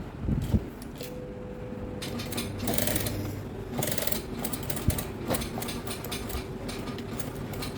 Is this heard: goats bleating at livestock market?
no